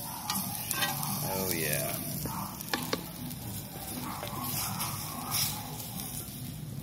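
Vegetables sizzle and crackle steadily in a pan over a campfire for bean cooking, with stirring scrapes and occasional clicks and short remarks over the frying.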